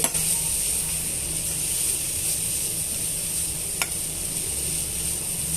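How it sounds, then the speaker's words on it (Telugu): Egg and spice mixture being stirred and fried in a pan for chapati egg rolls gives a steady, close sizzle, with one brief scrape of the spatula partway through and no talk. "ఇవన్నీ కూడా బాగా మిక్స్ చేసుకొని వేయించేసుకోవాలండి"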